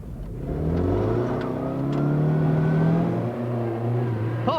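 A historic rally car drives along a slippery track on a farm, its engine revving and climbing through the gears at moderate distance, steady and unbroken, with no one speaking.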